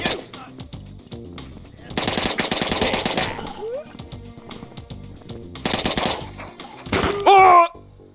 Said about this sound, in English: This thing is a burst fire.